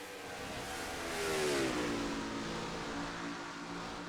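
A race car engine in a NASCAR-style racing video game at Nashville revs up and swells to a peak, then the pitch falls away as the car slows into a turn. There is no talking.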